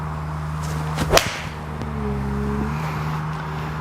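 A single sharp crack of a TaylorMade P790 iron striking a golf ball, close and crisp, over a low steady engine-like hum.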